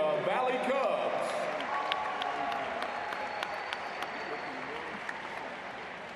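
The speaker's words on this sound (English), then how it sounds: "One more round of applause for the Alexandria Valley Cubs." Crowd applause fills a gym at a county basketball tournament championship, a steady wash of clapping and cheering that slowly tapers, with an announcer's voice over it at the start.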